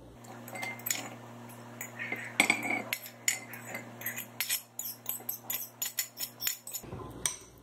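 Light clinking and tapping of a utensil against a bowl while beaten eggs are gently mixed with other omelette ingredients, a steady run of small close knocks and scrapes at low volume, with no talking.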